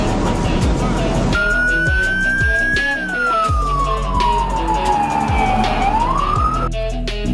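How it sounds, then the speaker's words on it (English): A Colombian police car siren wails loud and close, one long sweeping tone gliding up then slowly down and rising again, with a busy rhythmic backing thumping underneath throughout. "A Colombian police car is a versatile patrol vehicle equipped with sirens, flashing red and blue lights, and law enforcement technology."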